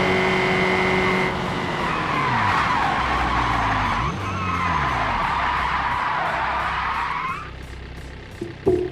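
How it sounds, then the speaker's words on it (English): Tires skid and squeal at length as a small 120-horsepower car slides to a stop on the Nordschleife in a racing video game, engine tone falling under the loud screech before it cuts off near the end. "And we slide to a stop."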